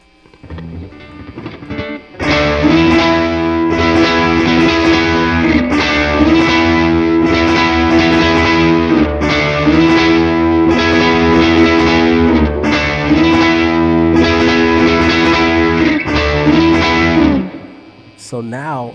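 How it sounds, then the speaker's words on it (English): A Chase Bliss Brothers AM pedal with gain maxed drives a heavily distorted electric guitar through an amp, sustained chords repeating in a steady riff, loud and close, ending with a brief pitch bend. "Distortion, gain all the way up."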